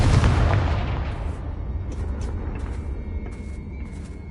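Confringo blasting spell bursts in Hogwarts Legacy with one heavy, close boom that rolls off into a long fading rumble, followed by a few faint clicks and a thin ringing tail.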